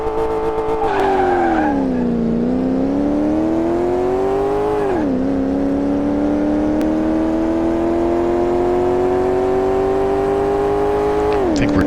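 A car drifting slightly to the right in Car Mechanic Simulator 2018, its engine holding a steady loud drone with pitch dips and rises, while tires squeal continuously throughout.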